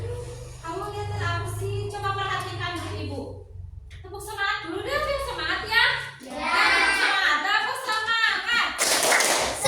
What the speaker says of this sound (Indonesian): Tepuk semangat dulu deh, biar semangat ya.